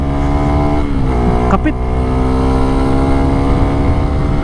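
A Suzuki Raider 150 Fi motorcycle engine drones steadily while riding on a road, loud and close with a constant buzzing tone, a brief shift in pitch partway through, and a rider speaking over it.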